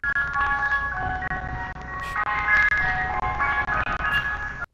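A passing ice cream truck plays its tinny electronic jingle, a repeating chime melody that stays steady and fairly clear over faint road rumble, with no talk.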